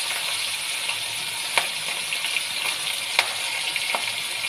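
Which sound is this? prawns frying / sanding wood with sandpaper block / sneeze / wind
prawns frying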